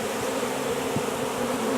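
A dense, steady buzz of many bees fills the air at a bee tree trap-out cone, close and unbroken.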